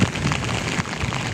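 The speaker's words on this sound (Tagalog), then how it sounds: "Pero lakas ng ulan na to." Heavy rain pours in Metro Manila along the Pasig River esplanade, a loud, dense, unbroken wash of noise with no voices.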